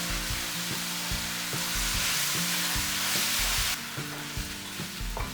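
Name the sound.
stirring noodles with vegetables in a frying pan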